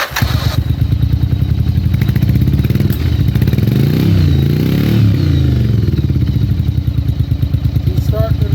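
A 1994 Yamaha Virago motorcycle engine cranks, catches and settles into a loud, close, lumpy idle with a rapid, uneven thumping beat, briefly swelling as the throttle is blipped before steadying again.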